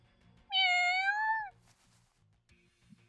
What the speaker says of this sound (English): The cat's on my leg.